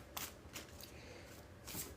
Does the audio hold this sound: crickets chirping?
no